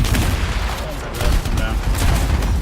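Gunfire rattles in the video game Anthem, a dense, loud fusillade of shots and blasts that barely lets up, with voices talking over it.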